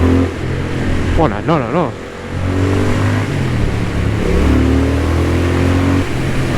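A 2023 Triumph Speed Twin 1200 motorcycle with its 1200 cc parallel-twin engine revs and accelerates while being ridden, a loud, close, continuous engine drone with rising pitch, under wind noise and an excited rider's voice.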